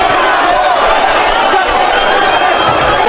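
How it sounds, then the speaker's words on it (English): A dense boxing arena crowd roars for Vargas and Magsayo, a loud, continuous wall of cheering and shouting that holds steady throughout, with a commentator's voice running over it. "Contingent cheering on the Mexican Vargas, and the contingent cheering on the Filipino"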